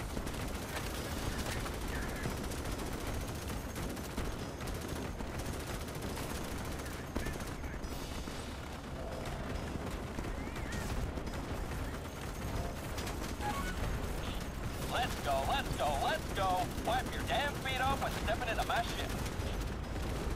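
Gunfire in the video game Starship Troopers: Extermination: rapid, continuous bursts of automatic weapon fire crackle on and off over a busy battle din, with voices talking intermittently underneath.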